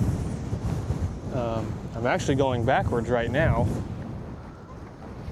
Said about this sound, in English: Today, as you can see, it's windy.